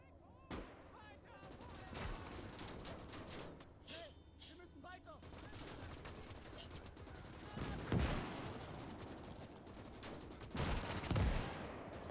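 Gunfire in the World War II strategy video game Gates of Hell: Ostfront, scattered shots and heavier bursts at a distance under ongoing conversation between players, with a couple of louder blasts near the end.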